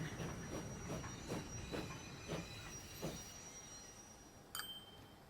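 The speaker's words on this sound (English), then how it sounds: "Train's pulling into the train station." A train pulls into a station in Transport Fever 2, a soft regular clickety-clack of wheels over rail joints, faint and slowing, with a thin squeal and a short metallic clank near the end.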